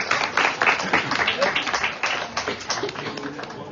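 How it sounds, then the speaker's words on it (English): Applause breaks out in a room during an afternoon Hari-katha gathering in Navadvipa, India, brisk dense clapping from a group running steadily for several seconds at moderate loudness. "Give a big round of applause for me."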